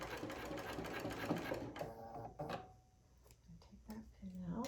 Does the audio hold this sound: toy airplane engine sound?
no